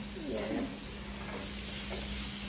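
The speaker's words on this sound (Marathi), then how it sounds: "छान सोनेरी असा रंग येईपर्यंत कांदा छान परतून घेऊया" Chopped onion sautés in a pan until golden, giving a steady close sizzle with soft scraping from stirring, no talk.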